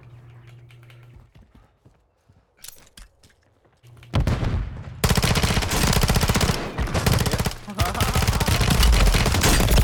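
Rapid bursts of automatic rifle fire in a first-person shooter video game, starting after a quieter stretch of scattered shots and then running loud and continuous, with faint voices underneath early on.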